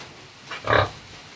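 A pig at feeding time in the afternoon gives one short, fairly loud grunt midway through, set against a quiet farmyard background.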